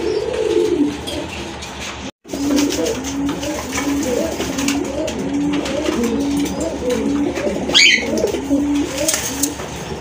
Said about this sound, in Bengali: একদম বুক সাদা এক জোড়া রাজগোল্লা কবুতর